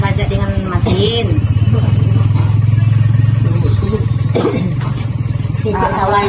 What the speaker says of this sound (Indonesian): Proses pengolahan sawah yang kami lakukan biasanya bajak dengan mesin.